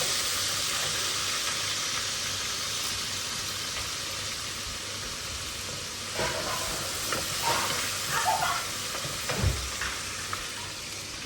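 Chopped onions sizzle in a hot frying pan during home cooking, a steady bright hiss with a few light clinks of a stirring utensil near the end, close and fairly loud, with no talking.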